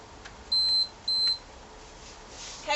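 A workout interval timer gives two short, clean electronic beeps in quick succession, close and moderately loud, with low room noise and a faint shuffle at the end.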